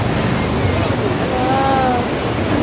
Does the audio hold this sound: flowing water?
yes